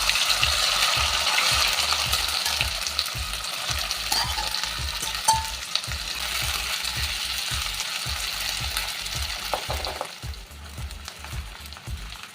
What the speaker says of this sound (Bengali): এবার এতে একটু লবণ ছিটিয়ে আমি এই আলুগুলো ছেড়ে ভেজে নেব।